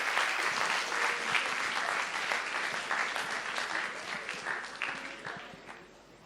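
A seminar audience at an entrepreneurship event applauds, with dense, steady clapping from a crowd that fades slightly toward the end.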